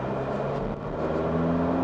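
Volkswagen Tiguan in sport driving mode accelerating, a steady, loud engine drone with a rising tone heard from inside the cabin, continuous with no talk.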